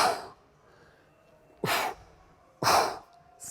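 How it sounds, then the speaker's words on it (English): Two sharp double breaths during kettlebell squats, each a loud forceful exhale burst after a short intake, spaced about a second apart following an initial breath, with quiet between. "Breathing, double breath."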